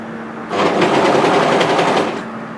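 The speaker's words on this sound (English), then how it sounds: "Now as you serge this in, the yoke seam should face towards the hemline," A serger overlock machine stitches a sweater yoke seam, a fast, steady buzzing run that starts after a short pause and continues close and loud for about two seconds before stopping.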